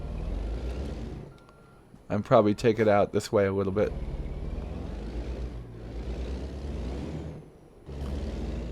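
A truck backing up and maneuvering for a turn, with bursts of air-brake hiss and a low engine rumble. A person in the cab talks over it.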